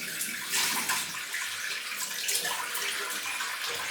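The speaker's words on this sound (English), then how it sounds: "Cold water rinse." Cold tap water running steadily into a basin during a wet shave rinse, a continuous hissing splash with small fluctuations as hands move under the stream.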